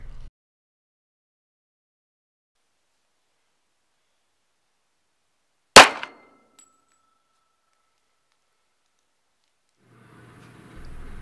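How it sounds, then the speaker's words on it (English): A Traditions .50 caliber Trapper muzzleloading pistol fires a sabot round, one sharp loud report in near silence followed by a short fading ring, with faint rustling at the very end. "The clip you're about to see is this 50 caliber trapper firing a savant."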